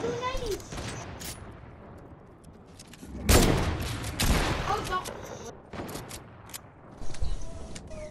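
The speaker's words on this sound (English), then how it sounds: "Bro, stop shooting at me, Juju." Bursts of gunfire in Fortnite crack out in several volleys, with loud clusters near the middle and the end, over a background of game sounds.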